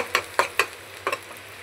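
Marinated tilapia frying in oil, with a faint sizzle under a series of sharp clinking stirs or flips, four or five quick close hits in an uneven rhythm and no voices.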